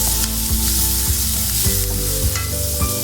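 Liver sizzles loudly in a pan with green chilies and garlic, with a steady close frying hiss and repeated scraping stirs of a spoon against the pan.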